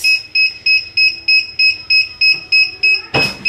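Heat press timer going off during satin bonnet sublimation, loud, shrill, evenly spaced electronic beeps repeating about three times a second, ending in a short burst of noise.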